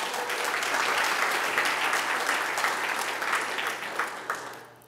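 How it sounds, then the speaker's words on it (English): Attendees at a city's State of the City address applaud, a fairly quiet, distant-sounding crowd clapping evenly before tapering off into a few scattered claps. "you should really give yourself a round of applause"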